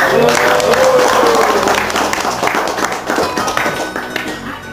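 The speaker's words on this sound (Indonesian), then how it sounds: "kita tepuk tangan dulu lah untuk pelatihan" Participants at a GPS and mapping training for the Orang Rimba clap together, a loud, uneven burst of hand claps and taps filling the room, with voices mixed in.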